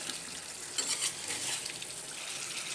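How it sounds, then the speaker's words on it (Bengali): Potatoes and broiler chicken sear in a pan, making a continuous close frying hiss. Light stirring bursts come and go, and no voices are heard. "আলুটা একটু কষায় নিলাম, মাংস ছেড়ে দিব এটার ভিতরে।"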